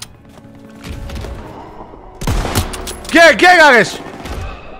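Rifle shots in Call of Duty: WWII, a few loud cracks and thumps mixed with game effects while someone talks casually over them, followed by a rising, warbling tonal sound near the end.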